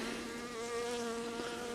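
Honeybees buzz steadily nearby around an open hive, a droning hum with shifting pitch, close and fairly clear with no talking.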